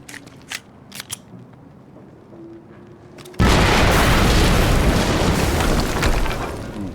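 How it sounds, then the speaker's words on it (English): Quantum Break video game: after a few quiet clicks, a sudden loud explosion erupts and rumbles on as a sustained roaring blast that fades slightly. "Ooh, big ol' explosion."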